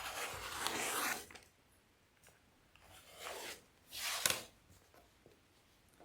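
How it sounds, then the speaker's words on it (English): Quilt fabric sliced along a ruler while binding a quilt, giving three soft broadband rasping strokes, close and moderately quiet, separated by brief pauses. "You want to hold your ruler down with one hand while you cut with the other hand."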